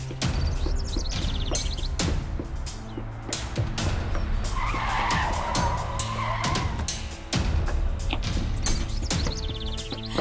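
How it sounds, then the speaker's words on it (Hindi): Tires squeal and skid as a car arrives on a road, a sharp screech rising mid-way over engine noise, with sudden impact-like bursts and a background music bed in a dramatic scene. "गाड़ी आ रही है।"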